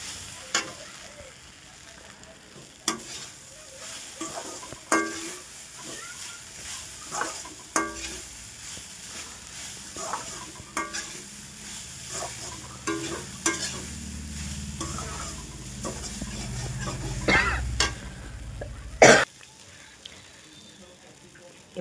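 Poha upma cooks in a pan over low heat, sizzling steadily while a spoon scrapes and stirs in scattered strokes, heard close with a faint voice murmuring at times.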